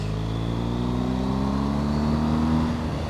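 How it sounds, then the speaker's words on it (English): A 2023 BMW R1250 GSA adventure motorcycle engine drones steadily with rising pitch as it accelerates out of a corner, loud and continuous throughout. "That exhaust sounds fantastic."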